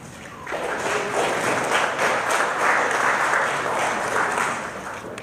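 An audience at a Sacramento tech start-up event gives loud, sustained applause for the CEO's introduction, a dense wash of clapping that swells and holds for several seconds.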